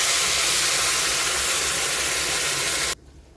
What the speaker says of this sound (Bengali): এইবার দিয়ে দেবো গরম জল, অ্যাড করছি গরম জল।